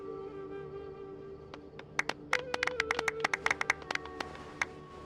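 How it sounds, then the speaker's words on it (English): Scattered claps build into a short, thin round of applause over a steady synthetic background tone, sounding small and game-like, in the video game Genshin Impact during a story quest. "Let's give our champion Kaveh one last big round of applause."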